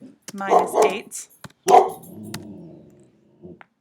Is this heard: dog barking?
yes